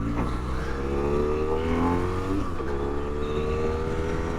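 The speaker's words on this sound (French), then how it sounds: "On est à bord de la F800R, ma moto personnelle." A 2017 BMW F800R roadster motorcycle pulls away, its engine note rising steadily and droning close by with no talking over it.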